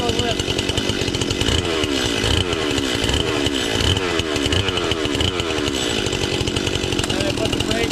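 A chainsaw runs loud and steady throughout a safety demonstration of ground and standing starts, its engine drone continuous and close with rhythmic surges.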